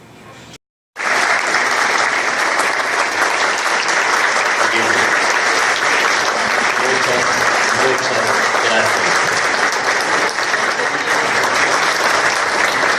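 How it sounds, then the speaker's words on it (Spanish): Audience applause after a talk on alternating current circuits: after a brief silence, loud, dense clapping breaks out and carries on steadily from a large crowd for about twelve seconds. "no saben cuánto aprecio esos aplausos."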